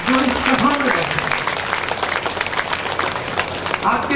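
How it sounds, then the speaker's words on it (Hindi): Loud clapping from an audience at a Bhagwat Katha religious gathering, applauding the children who sat through the recitation; steady rattling applause from start to finish, with a voice briefly audible over it. "एक बार जोरदार तालीम बच्चों के लिए बजाइए"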